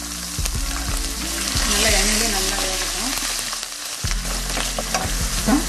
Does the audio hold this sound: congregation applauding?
no